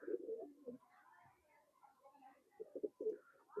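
An old-breed Nakatana pigeon coos close by in a quiet space, low throaty rolling calls in short bursts at the start and again near the end, soft and intimate.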